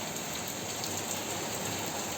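Steady rain falling during a thunderstorm, a dense continuous hiss of drops on surfaces that holds at an even level throughout, with no voices.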